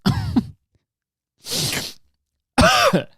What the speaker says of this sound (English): You know how kids just cough?